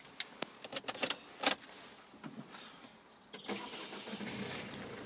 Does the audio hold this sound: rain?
no